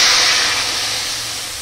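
Water poured into a hot frying pan of lightly fried ingredients for a methi greens dish gives a loud, steady steam hiss that slowly fades, heard alone and close up.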